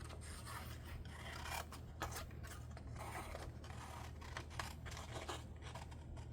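Scissors snip and rub through paper while a junk-journal ephemera pack is trimmed to size, giving quiet close scraping and clipped cuts over a low steady background hum.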